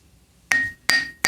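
A lead hammer strikes the flywheel of a 1965 Ariens snowblower with a blown engine: three sharp, close metallic whacks in quick succession, each leaving a brief ringing tone.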